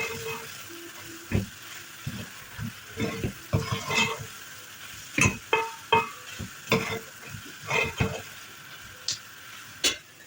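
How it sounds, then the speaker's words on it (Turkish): Tomato paste and a spoonful of flour sautéed in a pan, scattered scraping stirs and soft sizzle, close and moderate, in irregular bursts. "Üzerine 1 yemek kaşığı unumuzu da ilave ettikten sonra salçamızın kokusu çıkıncaya kadar kavurma işlemine devam edelim."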